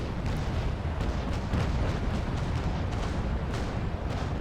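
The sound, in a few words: ship cannon firing in Naval Action video game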